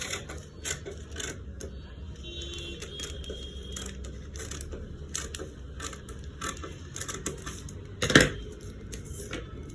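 Scissors snip through dress fabric on a cutting surface in a string of sharp, close clicks and crunches, with soft rustling of cloth and one louder clack near the end; no talking.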